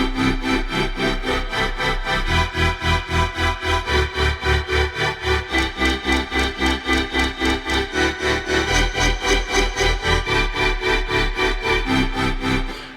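Granular synthesis from the Quanta plugin, with short randomized grains, produces a dense, buzzy texture that pulses in a fast, even rhythm over a deep low end, loud and continuous with no voices.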